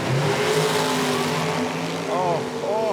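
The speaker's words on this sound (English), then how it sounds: "Great drag race here for Kara Jo as she puts one together." A nitro drag racing car roars at an IHRA Outlaw Nitro Series event in Milan, a loud, steady engine wash that holds the whole clip beneath an announcer's commentary.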